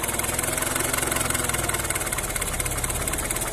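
Volkswagen Polo 6N engine idling while still cold, a close, loud and steady mechanical chug with a fast even pulse running without a break and no voices.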